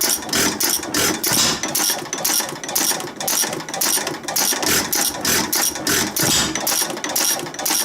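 Mini excavator engine running on two-stroke dirt bike gas, a loud rapid pulsing chug with an uneven, sputtering rhythm that keeps going throughout, close by with no talking.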